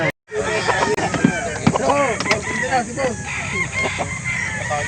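A rooster crows loudly at close range among other clucking fowl at a chicken market in Calauan, Laguna, with people talking over the birds.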